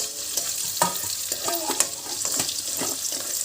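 Cumin, coriander seeds, mustard seeds, fenugreek and curry leaves frying in oil, a close crackling sizzle with soft stirring scrapes and small pops throughout.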